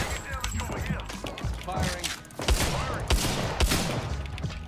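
Rapid bursts of gunfire from the video game Apex Legends crackle during a Twitch Rivals match, mixed with excited players shouting and talking over the shots.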